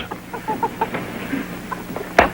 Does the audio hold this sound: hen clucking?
yes